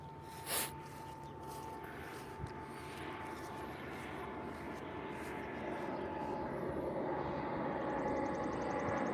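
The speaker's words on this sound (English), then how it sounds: "Nice little small plane." A small propeller airplane flying overhead, a distant droning engine hum that slowly grows louder over several seconds above an outdoor ambient bed, with a brief snort-like sound early on.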